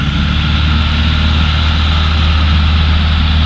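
Cessna 172 single-engine piston aircraft at full power on its takeoff roll, a loud, steady low engine roar with propeller drone running continuously and unbroken throughout.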